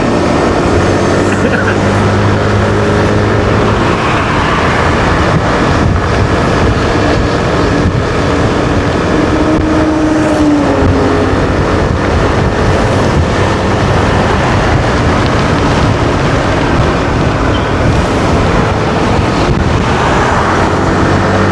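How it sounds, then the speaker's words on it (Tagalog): Strong wind roars steadily and loudly across the whole stretch, a constant rushing buffet with no pauses. "Lakas ang hangin."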